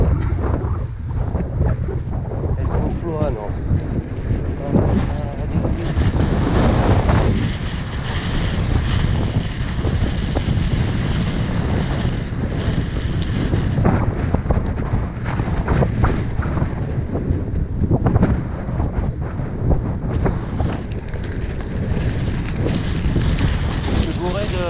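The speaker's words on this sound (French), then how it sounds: "Toujours le petit vent là." Steady wind buffets the microphone along the Seine riverbank at the Conflans confluence, a continuous loud roaring rumble that gusts throughout.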